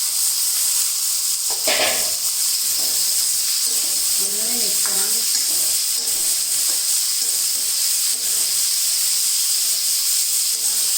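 Chopped watermelon going into a hot pan of fried onion, green chillies and ginger, a steady loud sizzle and hiss throughout with brief stirring scrapes and a faint voice underneath.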